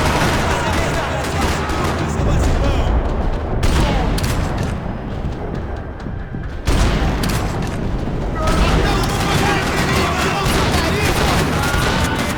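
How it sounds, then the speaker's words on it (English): Dense gunfire rattles across a parking lot in Max Payne 3, a loud continuous fusillade of shots and booms with a brief lull midway before the barrage resumes. "parking lot rattling with gunfire"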